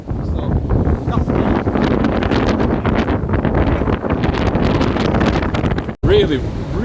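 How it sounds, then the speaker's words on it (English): Strong gusting wind buffets the microphone in a loud, continuous rumble, with a brief dropout near the end. "Really windy here today"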